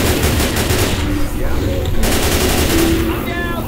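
Rapid, dense gunfire from the Left 4 Dead 2 zombie shooter, loud overlapping bursts running continuously with faint voices mixed underneath.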